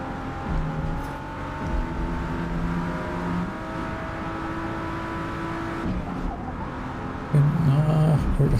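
Race car engine under throttle in Forza Motorsport: a sustained, droning engine tone that holds steady and shifts pitch, then a louder revving surge near the end, with faint talk in the background.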